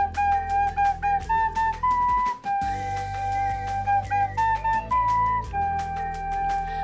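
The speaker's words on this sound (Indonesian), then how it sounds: "Tepat sekali. Itu adalah bunyi rekoder." A recorder is blown to play a simple melody of clear, steady notes, each held briefly, over a soft, low, sustained accompaniment. The notes are moderately loud and continue without pause.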